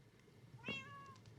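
A cat meows in the modded Minecraft pack Enigmatica 6 Expert. It gives one clear, rising meow in the middle of the clip against faint background hum.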